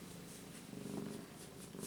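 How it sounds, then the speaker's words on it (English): A soft, close cat purr, rumbling in a steady rhythm of breaths, quiet and alone. "she's purring really well now"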